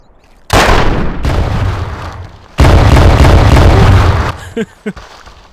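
Gunfire and explosions in the video game Trespasser: two loud, booming blasts, each trailing off into a long rumble, then a couple of short, sharp pops near the end.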